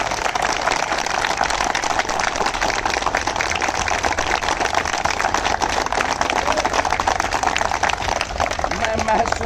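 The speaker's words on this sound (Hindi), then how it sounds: "आपकी शानदार तालियों के लिए" Steady, dense applause from a large crowd at a protest gathering fills the whole stretch, loud and continuous with a mixed murmur of voices beneath it.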